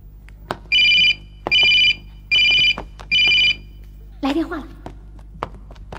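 A telephone rings in a police drama scene with four loud electronic trill bursts at a steady rhythm, then a person speaks briefly after the ringing stops.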